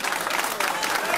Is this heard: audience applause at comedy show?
yes